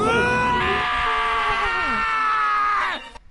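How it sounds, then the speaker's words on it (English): A long, loud, sustained scream from the video game Danganronpa: Trigger Happy Havoc, held for nearly three seconds before breaking off, with a second voice layered in and falling in pitch near the end. "Hey, I heard screaming."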